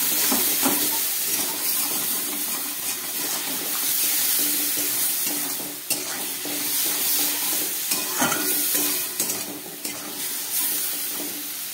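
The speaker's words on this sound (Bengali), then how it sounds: "সামান্য একটু জল দিয়ে দিচ্ছি মশলাটা ভাজার মতো" Cumin powder spice paste sizzling after a splash of water is added, a steady loud hiss and crackle with occasional stirring clinks throughout, no talking.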